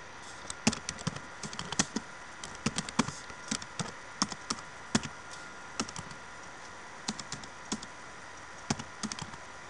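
Someone types a lesson on a computer keyboard, tapping the keys in irregular bursts of crisp clicks. The typing is close and fairly quiet, with short pauses between clusters and no talking.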